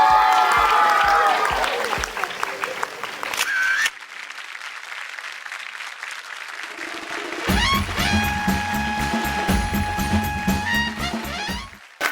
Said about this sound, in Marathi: जोरदार टाळ्या होऊन जाऊ दे